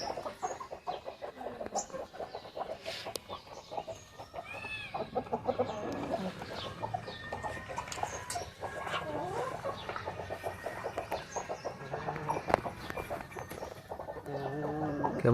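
Bhimavaram breed roosters and hens in a poultry yard, clucking and calling steadily at moderate distance, with overlapping bird sounds and faint background activity throughout.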